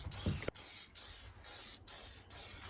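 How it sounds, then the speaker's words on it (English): Repeated short bursts of ACF50 corrosion inhibitor sprayed from an aerosol can close by onto a Royal Enfield Meteor 350 motorcycle frame, about six in a steady rhythm separated by brief gaps, with faint handling noise at the start. "I'm just going to spray everything"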